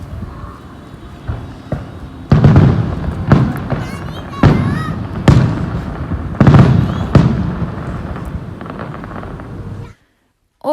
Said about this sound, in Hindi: और जिसके साथ साथ हम लोग एंजॉय कर रहे थे फायरवर्क।